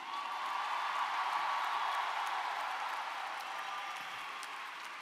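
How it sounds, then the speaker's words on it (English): A large commencement crowd applauds the graduating class of 2019 with a steady wash of clapping that fades slightly toward the end, with no talk over it. "let's give a big round of applause to the class of 2019 again"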